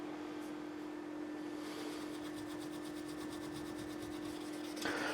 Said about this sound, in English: As you can see, I'm polishing a fret now.